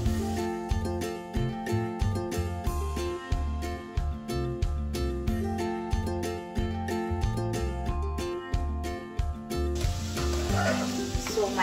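Crab fry sizzling and frying in a pan, a continuous crackling hiss with rhythmic scraping and stirring clatter running throughout, fairly close and loud.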